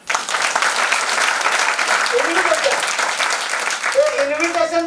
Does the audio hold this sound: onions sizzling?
no